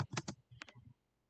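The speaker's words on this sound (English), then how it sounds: "I'll type it in here." A computer keyboard gets a quick close burst of about six or seven clicking keystrokes, then goes quiet.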